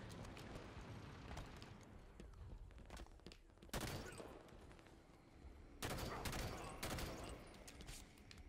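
A chain gun in a multiplayer shooter video game fires in long, dense bursts of rapid gunfire, loud and continuous, with heavier surges of shots partway through.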